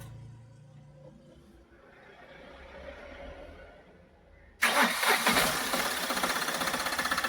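After a quiet low hum, a Tata Ace Gold BS6 engine fires abruptly following a timing belt refit, then keeps running loud and near with a rough, rapid knocking beat.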